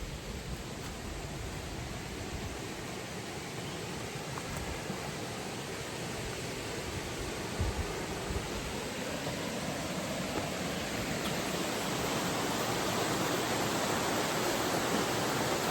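A waterfall's rushing water makes a steady, dense roar that carries on without a break and grows slightly louder near the end, with no voices over it.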